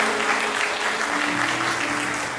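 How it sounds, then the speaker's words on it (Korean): Guests at a wedding ceremony in a convention ballroom break into loud, sustained applause, a dense even clatter of many hands throughout. "네, 큰 박수로 축하해 주시기 바랍니다"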